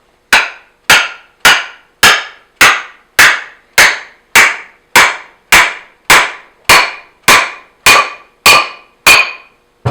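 A hammer drives a wedge into a new hammer handle with about sixteen sharp, evenly spaced whacks, loud and close, each ringing briefly before the next blow.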